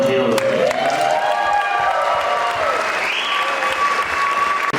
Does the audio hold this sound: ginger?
no